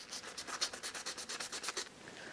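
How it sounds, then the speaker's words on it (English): Quick rhythmic back-and-forth sanding strokes on a small frog fishing lure body, about a dozen close rasping passes, then a brief quiet pause. "I'm sanding it down, getting rid of the flaws and getting it ready for the next step"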